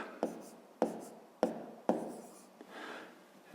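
A pen writes numbers on paper during a fifth-grade division exercise, with four sharp tap-like strokes followed by a softer scratching stretch. The writing is close and fairly quiet, with no talking over it.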